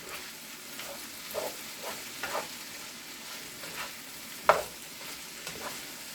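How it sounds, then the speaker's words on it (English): Seasoned mince with salt and pepper sizzles softly in a pan while being stirred and mixed, with quiet intermittent scraping and one sharper knock, close-up and fairly faint, no voices. "We'll give this a nice little mix."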